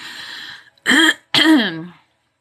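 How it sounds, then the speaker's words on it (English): A woman clears her throat twice in quick succession, two loud, close, rasping bursts following a quieter stretch of breathy voice-like sound, then silence. "I've been clearing my throat for the last hour"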